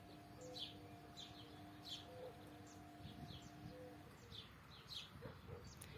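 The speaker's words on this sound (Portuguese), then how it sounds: "Olha, gente, esse canto é do pombo." A pigeon coos in a rural backyard after rain, soft repeated low calls drifting at a distance among faint chirps of other birds, the whole scene quiet and far off.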